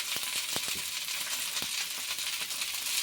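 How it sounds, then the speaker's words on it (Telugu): Coriander leaves frying in a pan, a steady soft sizzle with a few faint clicks of stirring throughout. "కొత్తిమీరని ఫ్రై చేసుకోవాలి"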